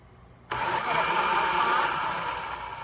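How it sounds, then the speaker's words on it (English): A blender on its grate setting chops tomatoes for homemade spaghetti sauce, switching on abruptly and running with a loud, steady motor whir for a few seconds. "I hit grate on the blender 3 times."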